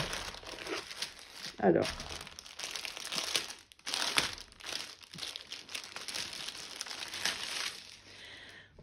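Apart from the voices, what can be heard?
unwrapping crinkly packaging of drums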